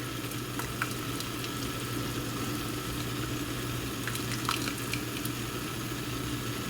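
Vegetables blanch in a pot of boiling water on a kitchen stove, giving a steady close bubbling hiss and simmer that runs the whole time with no talking.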